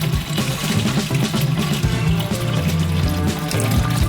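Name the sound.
filling a balloon with water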